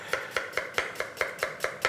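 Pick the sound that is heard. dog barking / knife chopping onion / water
knife chopping onion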